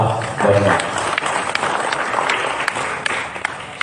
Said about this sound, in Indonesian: Sekali lagi saya terima kasih dan tepuk tangan untuk ormas Banyumas.